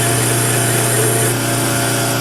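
A metal lathe cuts a flywheel hub taper on a prototype build, giving a steady, loud machining whir with dense grinding noise and a constant low hum, the cut sounding strained as chips jam.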